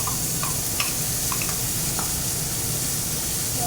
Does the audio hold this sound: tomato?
yes